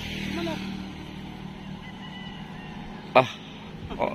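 A honking, goose-like chicken call rises out of a murky outdoor background, with a short sharp burst near the end and soft voices nearby.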